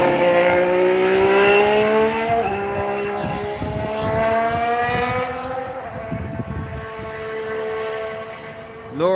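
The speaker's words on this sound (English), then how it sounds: "Ferrari's back out on track." Ferrari race car passing on a circuit during a testing session, its engine note rising through rapid upshifts and fading into the distance amid other track noise.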